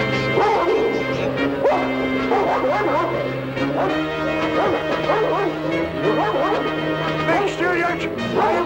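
Dogs bark and yip repeatedly over a steady musical score, fairly loud and continuous, in a scene from a 1979 television drama.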